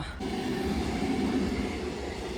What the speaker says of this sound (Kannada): ಟ್ರೈನ್ ಬರ್ತಿದೆ. ಹಾಗಾಗಿ ಟ್ರ್ಯಾಕಿಂದ ಇಳಿದಿದ್ದೀನಿ